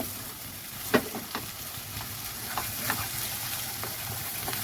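Quiet, steady sizzle of poppy seed paste frying in oil, with a few soft stirring clicks and scrapes; no talking.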